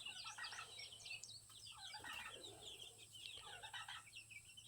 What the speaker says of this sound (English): There's 46 baby chicks in this pen.